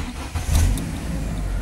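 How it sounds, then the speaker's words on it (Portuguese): A car engine catches and starts after a water pump replacement, then settles into a loud, steady close-up running tone. "Ó o barulho do carro, velho."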